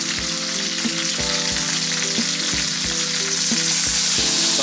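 A NY strip steak sears in a hot pan after being flipped, giving a loud, steady sizzle and crackle that runs unbroken throughout, with a low repeating hum underneath.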